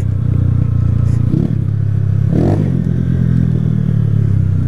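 A worn CG Fan motorcycle's engine drones steadily close by while being ridden, a low buzzing hum with brief rises in revs and some rattling from the ride.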